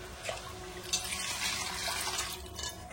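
Mutton stock water poured into a pot of curry in a home kitchen, a steady close liquid splash and trickle running for a few seconds with no talk.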